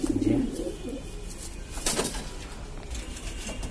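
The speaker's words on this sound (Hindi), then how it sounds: "ये है भाई कबूतर देख लो" Madrasi pigeons in a home loft coo in soft, low throaty calls that are loudest at the very start, with a brief flutter of wings partway through and quiet ambient noise around them.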